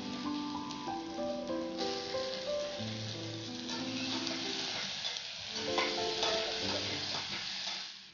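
Capsicum chillies fry in a pan with a soft, even sizzle, fairly quiet and unbroken, with occasional faint stirring sounds.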